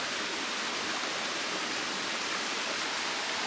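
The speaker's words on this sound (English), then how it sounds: "This is a jungle waterfall." A jungle waterfall in Costa Rica pours in a steady, loud broadband roar, close by and unbroken, with no voices over it.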